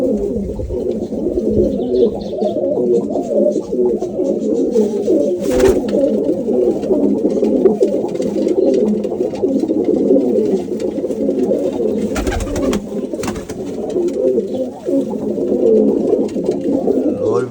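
Big pigeons in a loft coo steadily for the whole stretch, with many overlapping throaty calls close by and a few sharp knocks breaking in.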